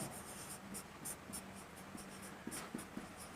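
Chalk or marker writes on a board during a maths lesson on sets, giving quiet, close scratchy strokes in short irregular bursts over a faint low hum.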